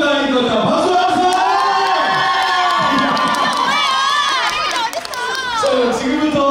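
A crowd cheers, whoops and shouts at a pork belly festival in Cheongju, loud and close, with children's voices rising above it and a host talking through the din.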